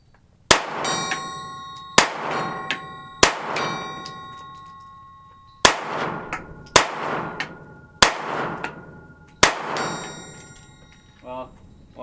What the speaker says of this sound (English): The gong.